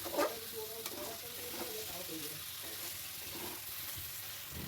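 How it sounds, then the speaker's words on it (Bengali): Fried kham alu (yam) is stirred into spice masala in a pan, a quiet, continuous sizzle with soft scraping strokes and a brief louder clatter at the start. "দেওয়ার পর আমরা আবার কিছুক্ষণের জন্য এটাকে খুব ভালোভাবে নেড়ে নেব।"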